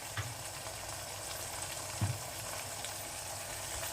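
Chicken masala curry fries quietly in a pan, a soft continuous sizzle with a couple of faint bumps as a spoon gently stirs it.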